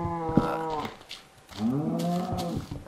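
A Minecraft cow lets out two drawn-out, low moos close by, separated by a short pause, with no talking over them.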